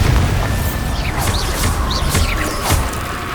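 The Bombarda blasting spell explodes in Hogwarts Legacy as a series of booming thuds and bursts over steady game ambience with faint chirps.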